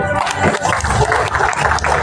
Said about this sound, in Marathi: मला वाटतं टाळ्यांचा आवाज थोडासा कमी झाला.